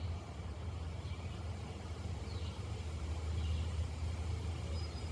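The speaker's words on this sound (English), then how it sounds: "I hear cars" Steady low rumble of car traffic on a nearby road beside a hiking trail, a continuous engine drone that swells slightly toward the end, with no clear individual pass-bys.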